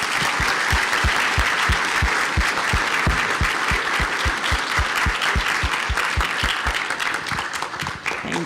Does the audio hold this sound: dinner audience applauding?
yes